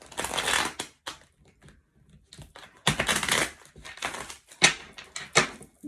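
Tarot cards are shuffled close up in uneven bursts of crisp riffling and slapping, separated by short quiet gaps, with no talking.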